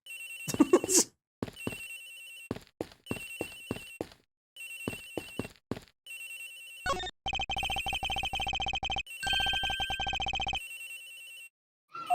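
A cell phone in the Ace Attorney Investigations Collection video game rings with a lullaby-like ringtone, sounding first in short repeated bursts and then in longer steady melodic rings, alone with no talk.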